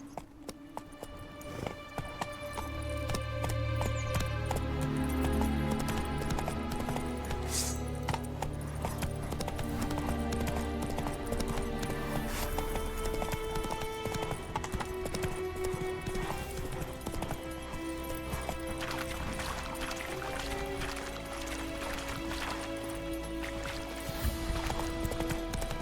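Horse hooves galloping in Witcher 3 on PS5, a fast, steady clip-clop rhythm close up that runs for most of the stretch over a sustained tonal background.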